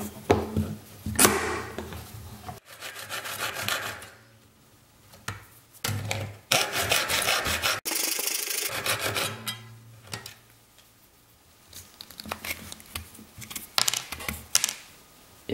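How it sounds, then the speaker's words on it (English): Hand sawing cuts a notch along the centre ply of a plywood hacksaw blade handle, coming in close, rasping bursts of strokes separated by short pauses, with no voices. "we will cut a notch into it along the centermost ply"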